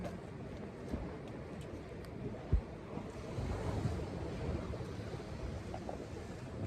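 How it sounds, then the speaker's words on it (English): Sea waves surge and splash against a fishing boat's side on a winter cod fishing trip, a soft continuous wash with wind noise over the mic and one sharp knock midway. "The waves have really caught us a couple of times, splashed up on the side."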